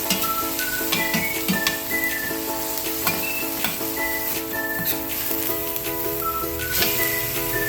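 Winged beans (sigarilyas) sizzle in hot oil for ginataang sigarilyas, a steady, close frying hiss with soft stirring, while background music runs throughout.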